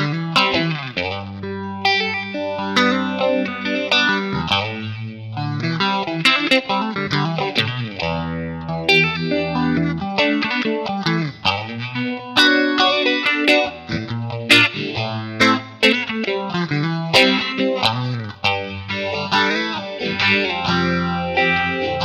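Electric guitar played through a Fender Deluxe 64 amp impulse response with chorus, distortion and modulation effects, a continuous run of chords and single-note lines filling the whole stretch with no talk.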